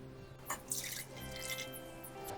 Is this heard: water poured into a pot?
yes